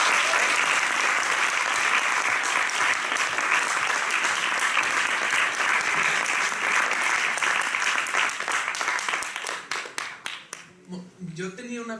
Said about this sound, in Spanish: yo creo que un fuerte aplauso para José